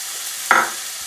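A chopped small onion frying in oil in a pan gives a steady, even sizzle, broken midway by one short scrape as it is stirred around; no talking.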